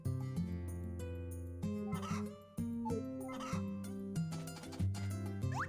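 Chickens in the video game Harvest Moon: A Wonderful Life give a few short, chirpy clucks over steady, tuneful background game music.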